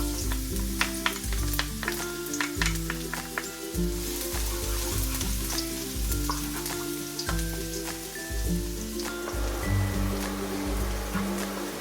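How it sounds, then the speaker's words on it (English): Garlic drops into hot oil in a pan while a shepherd's pie is cooked. It sets off a loud, crackling sizzle with sharp pops and spatters, and a low hum sits beneath it the whole time. "The oil is ready now. I'm going to put garlic first."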